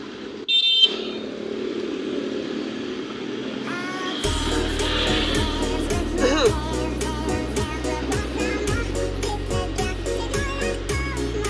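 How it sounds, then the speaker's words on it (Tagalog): Busy street traffic near Market! Market! on C5 in Pasig, with cars and motorcycles idling and creeping along, scattered horn beeps, and a steady engine hum close by. "Dito nagmumula ang traffic."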